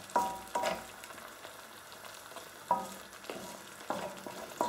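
Ground spices and paste for an Indian fish curry sizzling softly in a pan, with a handful of separate metallic stirring scrapes and clinks spaced irregularly over a quiet frying hiss.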